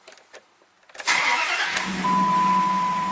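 A car engine cranks and catches after an oil change with the transmission in neutral, settling into a steady idle that stays loud for the rest of the moment, with faint clicks before it fires.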